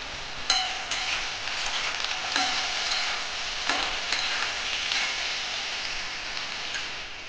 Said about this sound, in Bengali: কড়াইতে তেলটা গরম হয়ে গেছে, আমি পেঁপেগুলো দিয়ে ভেজে নেব